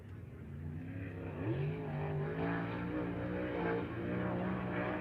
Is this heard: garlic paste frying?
no